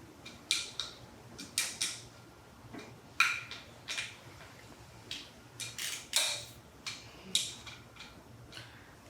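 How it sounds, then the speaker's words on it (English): Hand ratchet snugging the clutch cover bolts on a dirt bike, a string of short, crisp clicking bursts repeating every second or so, close up and fairly quiet, with no talking. "I have my hand choked up on the ratchet again, and that's just going to really ensure that I don't put too much torque on these bolts"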